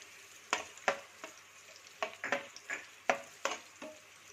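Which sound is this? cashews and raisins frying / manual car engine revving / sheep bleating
cashews and raisins frying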